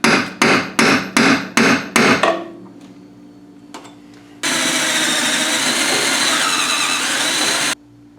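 Six sharp, evenly spaced hammer blows on a center punch against a 1970 Mustang cowl, followed after a pause by a steady, loud drill grinding a 3/8-inch hole through the metal for a few seconds.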